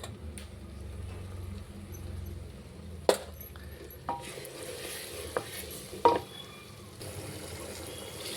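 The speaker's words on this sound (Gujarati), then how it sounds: "મસાલો આપણો ફ્રાય થઈ ગયો છે" Masala spices fry quietly in a pressure cooker under a soft sizzle, broken by several sharp metallic clinks and scrapes from a spoon stirring against the pot.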